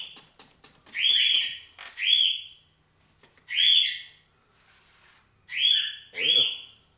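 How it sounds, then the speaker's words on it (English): Loud, close birdsong outdoors: repeated whistled phrases in five bursts, each about a second long, separated by short pauses, with one call ending in a rising, buzzy note. "I guess the birds wanted to be heard all of a sudden."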